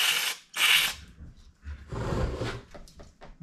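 Threads in a bolt hole on a Yamaha Banshee 421cc drag quad engine being chased with a thread-cleaning tool: several close, harsh scraping and grinding bursts of uneven length, with short pauses between them.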